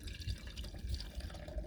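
Melted butter ghee pours and trickles softly, a faint close liquid splashing with small drips under low background noise.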